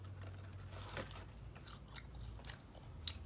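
Close, crisp biting and crunching of sushi with salmon, tuna and seaweed, a few sharp crunches followed by soft chewing, with no talk.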